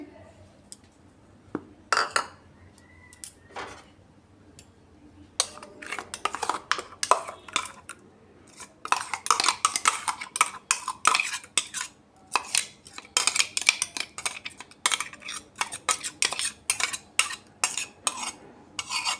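Metal utensils clink and scrape against a bowl as onion paste is scooped out of a mixing jar, sparse taps at first and then dense, rapid clattering close by, with no talking.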